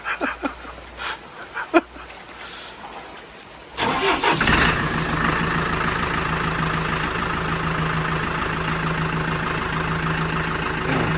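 A Massey Ferguson 1250 tractor engine starts up after a few seconds of quiet rustling and thumps, then settles into a loud, steady idle outdoors in the rain.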